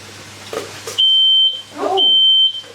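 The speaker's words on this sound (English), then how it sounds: "Smoke alarm." A kitchen smoke alarm goes off while a full English breakfast is being cooked, giving two loud, sustained high-pitched electronic beeps with short gaps, and voices exclaim between and over them.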